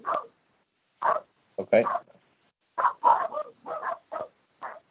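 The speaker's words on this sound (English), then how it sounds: "if you could mute your phone, we can hear your dogs" Dogs bark in short, separate bursts down a phone line during a teleconference meeting, the sound thin and narrowband, with a few yips and whimpers mixed in and a brief spoken word at one point.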